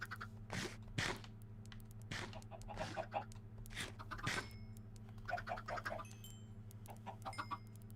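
Chickens in the Minecraft video game give short clucking bursts at an irregular pace over a steady low electronic hum, with a few brief chirpy tones scattered among them.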